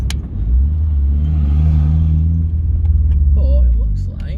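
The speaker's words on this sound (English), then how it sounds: "So I'll leave the car running" Car engine left running while parked, a steady low rumble close by with a slight surge midway and faint clicks near the end.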